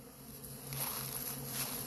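Honey bees swarm over leftover wax cappings in empty hive boxes, a dense steady buzzing drone that swells slightly and fills the air without any voices.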